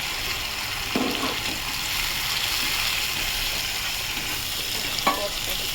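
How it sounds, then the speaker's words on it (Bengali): Onion and ginger-garlic paste frying in a pan, a continuous soft sizzle with a couple of spoon scrapes, close but fairly quiet and free of speech. "এটা ভেজে ফিরছি"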